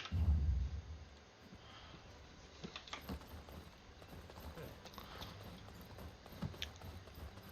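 Steady clip-clop of horse hooves at a walking pace in the video game Black Desert Online, moderately close, over a low rumbling background with a few scattered clicks.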